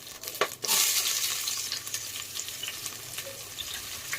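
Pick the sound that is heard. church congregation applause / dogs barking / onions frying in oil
onions frying in oil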